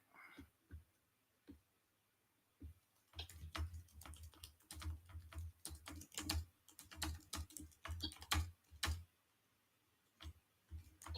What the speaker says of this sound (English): I'm typing the frickin' grade.